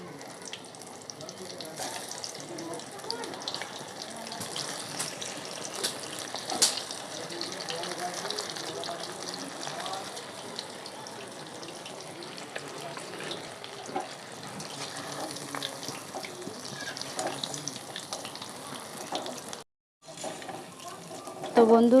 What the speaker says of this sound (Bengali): এবার আবার তেলে একবার ভেজে নেব।